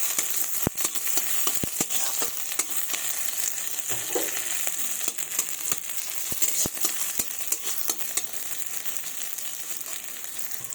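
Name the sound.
frying panch phoron spices in oil until reddish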